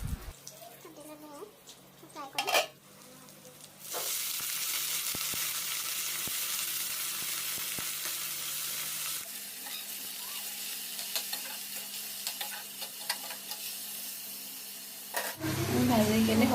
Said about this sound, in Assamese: ৰাতিপুৱাৰ ব্ৰেকফাষ্ট ৰেডি কৰি আছো মই কলডিল ভাজি আৰু পৰঠা বনাই আছো